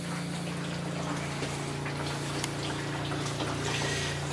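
Small water pump moving water from bottom to top, a steady motor hum with continuous gushing, bubbling liquid flow, constant and close throughout.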